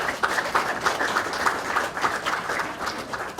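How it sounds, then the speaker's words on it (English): An audience gives a round of applause for preschool children at an art exhibition event in Wallsend: dense, steady clapping from many hands that holds evenly for a few seconds with no pauses. "Why don't we just give them a little bit of a round of applause?"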